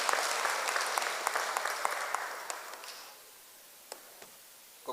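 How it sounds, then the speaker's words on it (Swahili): Church congregation at a Kikuyu service claps for a newly named deacon, brisk applause that tapers off after three seconds into scattered single claps. "apigwe makofi"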